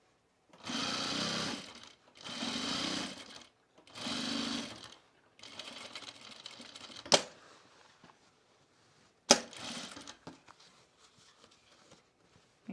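Sewing machine stitching a seam with elastic, running in three steady bursts of about a second each, then quieter handling with a couple of sharp clicks and short rustles.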